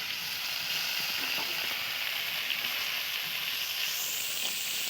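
Potatoes fry in oil in a wok, giving a soft, continuous sizzling hiss that stays even and fairly quiet throughout with no talking.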